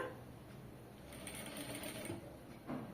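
A sewing machine runs steadily while stitching around a star-shaped neckline with piping, a soft continuous mechanical whir that is close and fairly quiet, with no voices.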